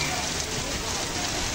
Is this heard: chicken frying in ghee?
no